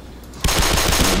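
Rapid automatic gunfire from the Black Mesa video game bursts out loud after a short quiet moment, a dense rattle of shots that continues to the end.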